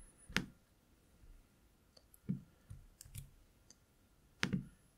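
Computer mouse clicking on a desk, several sharp isolated clicks spaced a second or two apart, close and fairly quiet with no talking.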